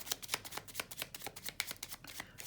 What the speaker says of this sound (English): And then one more shuffle, and I'll just have to find her.